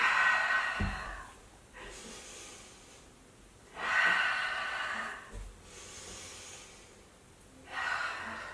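Slow, deliberate yoga breathing during a mommy-and-me session, with three long airy exhales or inhales spaced a few seconds apart, close and clear with quiet pauses between.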